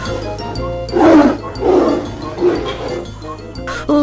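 A cartoon tiger roars in a series of growling bursts, loud and close, over a steady musical background with no talking.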